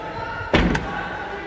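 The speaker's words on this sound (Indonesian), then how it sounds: "Ini ada handle untuk menutup pintu." A door on a 2022 Daihatsu All New Xenia 1.3 X MPV is pulled shut by its inside handle, one solid, muffled slam with a short rattle after it against a low steady background.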